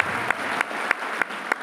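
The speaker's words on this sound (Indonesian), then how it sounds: "Tepuk tangan yang paling meriah dari Tuhan." A church congregation applauds in a steady wash of clapping, broken by regular sharp claps that land about every third of a second. The sound comes from a crowd inside a room, with no talking over it.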